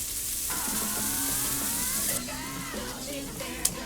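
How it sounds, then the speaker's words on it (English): Garlic, onions and peppers sauteing in a pot with tomato paste and curry powder for an oxtail dish, giving a steady close sizzle that drops slightly partway through, with a light clink near the end. "we're gonna add the garlic in here, and then we're gonna saute this for about 5 minutes"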